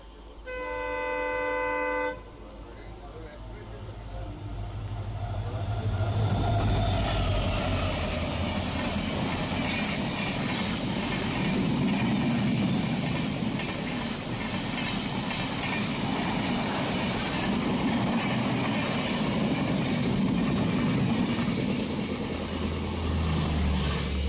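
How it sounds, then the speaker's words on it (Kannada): The Panchaganga Express from KSR Bengaluru to Karwar sounds a loud, sustained horn blast as it arrives at Manki station on the Konkan Railway, followed by a heavy, continuous rumble of wheels and rail cars rolling past nearby. "ಬಂತು ಟ್ರೈನು ಪಂಚಗಂಗಾ ಎಕ್ಸ್ಪ್ರೆಸ್"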